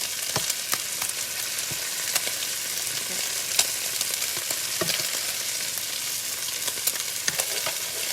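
Beef pieces frying in a pan give a bright, dense sizzle with scattered pops and crackles, steady and close throughout, with no talking.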